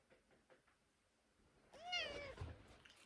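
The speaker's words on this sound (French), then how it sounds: "Tiki, elle est trop belle, c'est mon chat de sorcière" A pet cat indoors gives one loud, rising-and-falling meow up close after a few seconds of faint room noise and light knocks.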